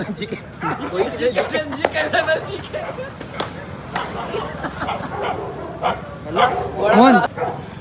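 Several dogs bark and yip in a scuffle, sharp irregular barks coming in bursts at moderate distance, with people talking over them.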